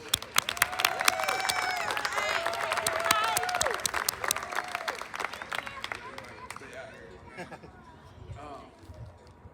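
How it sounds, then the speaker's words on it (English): Audience applause at a meeting, moderate clapping with scattered cheers and whoops over it, gradually thinning out toward the end. "Let's give Mike another round of applause."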